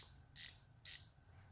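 A Capri 4-in-1 ratcheting wrench gives two crisp, close clicks about half a second apart in a quiet room.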